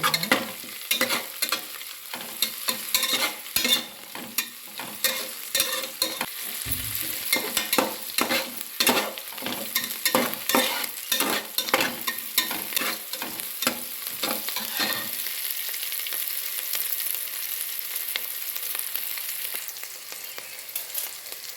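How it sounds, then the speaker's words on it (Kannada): Four or five green chillies frying in a pan, a bright continuous sizzle broken by frequent quick stirring scrapes, then easing into a softer, steady hiss toward the end. "ಈಗ 4-5 ಕಾಯಿ ಮೆಣಸು, ಫ್ರೈ ಮಾಡುವ"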